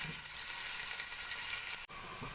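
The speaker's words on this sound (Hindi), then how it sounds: "अब प्याज को मैं हल्की आंच पे ब्राउन कर लूँगी।" Onions browning slowly in a pan over low heat give a steady, soft sizzle and hiss that continues throughout, with one brief dip near the end.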